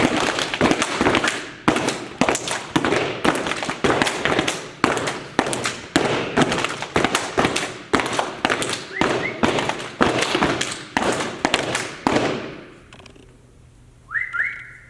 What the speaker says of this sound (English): we have a wonderful performance planned from our AA steppers